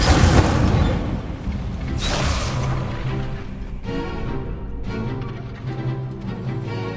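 Fire spell Incendio cast repeatedly in Hogwarts Legacy, heard as loud booming bursts and whooshing blasts recurring every second or two amid layered combat effects and a low rumbling background.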